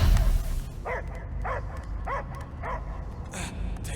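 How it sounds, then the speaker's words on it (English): A dog barks in the video game Guardians of the Galaxy, four evenly spaced yelping barks over a low rumbling game soundtrack, with a brief whimpering tone at the end. "I hear only barking."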